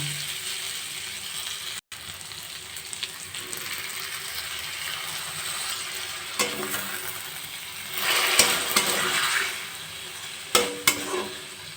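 Banana stem being stirred and sautéed with potatoes, spices and Gobindobhog rice in a pan, a steady low sizzle with scraping and clinking of the spatula, louder stirring bursts toward the end.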